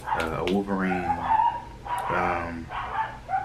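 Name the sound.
dogs barking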